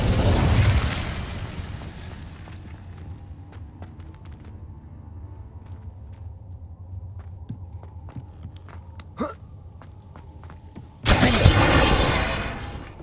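A fire spell, Incendio, cast in the video game Hogwarts Legacy, heard as a loud burst of roaring flame at the start and again near the end, with quieter low game ambience and a few short clicks and pops in between.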